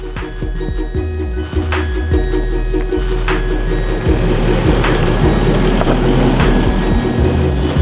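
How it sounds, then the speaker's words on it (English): An automatic Isuzu 4x4 with a 3-litre D-Tech diesel engine climbs an off-road incline, its engine droning loud and steady with rumbling rhythmic thumps and rattles from the vehicle and terrain. "I am driving the auto version of the 3-liter D-Tech Isuzu"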